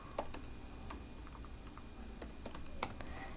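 Quiet keystrokes on a computer keyboard as a name is typed into a web sign-in form, with scattered light clicks in short bursts over a low background hiss.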